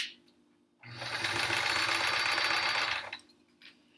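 Home sewing machine stitching through thick quilt layers, a dense steady mechanical whir that starts abruptly, runs for about two seconds at an even, laboring pace, then stops.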